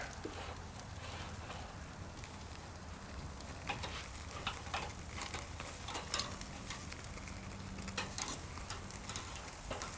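Fatty Wagyu porterhouse steak sizzling over open flames on an SNS MasterKettle grill, a steady crackling hiss with scattered sharp pops and spits throughout, fairly quiet and without talk.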